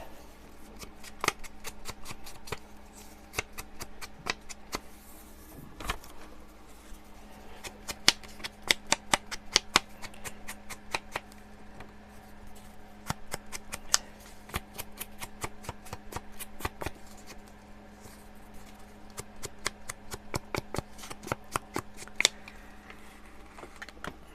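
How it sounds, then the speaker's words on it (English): An old paper cutter slices paper for a butterfly journal, a series of sharp, crisp snipping clicks in irregular bursts, close and fairly quiet between cuts. "This cutter is so old, I'm surprised it still cuts."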